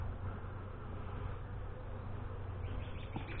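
A dense, continuous hum of honey bees buzzing at an open hive during an end-of-April inspection. The drone is steady and close, with no voices.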